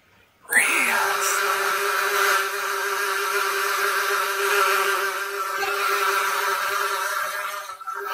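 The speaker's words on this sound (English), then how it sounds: "Who let the bees in?" A bee buzzing sound effect plays as a steady, loud drone right up front, holding continuously for about seven seconds with a brief whoosh at the start.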